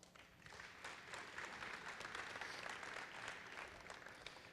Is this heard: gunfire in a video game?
no